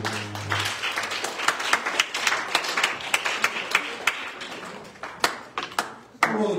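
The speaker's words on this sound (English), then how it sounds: "Will you clap your hands?" A church congregation claps along in rhythm at a sermon service, sharp distinct hand claps sounding close and loud, several people clapping together with a few stronger single claps toward the end.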